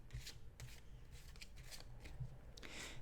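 Tarot cards shuffled and handled up close, with repeated soft papery riffles and flicks in short bursts, no voice.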